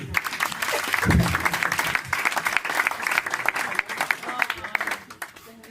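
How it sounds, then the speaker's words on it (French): Audience applause at a comedy show at the Carioca, a steady wash of clapping throughout with a voice talking over it now and then. "Merci, applaudissements pour elle."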